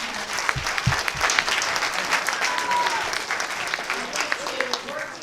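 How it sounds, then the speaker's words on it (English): Audience applause after a live student group presentation, a steady round of clapping from a crowd filling the whole stretch with no talk over it. "round of applause."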